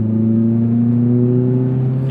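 A 2000 Honda Prelude's VTEC engine revs hard under acceleration, a loud steady harmonic drone that climbs slightly in pitch, heard from inside the car.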